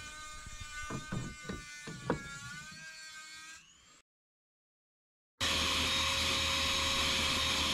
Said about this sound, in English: So first I use my vacuum just to clean out any debris.